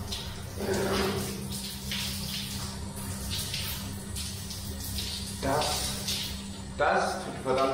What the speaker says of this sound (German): Deswegen werde ich diese Dusche jetzt so sehr genießen.